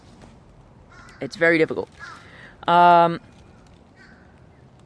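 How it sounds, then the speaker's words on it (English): Crows cawing outdoors, two loud harsh calls about a second apart, with a person speaking briefly before them. "Crows."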